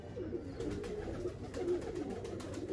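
Several pigeons coo softly and continuously nearby, overlapping low throaty calls over a faint background hum.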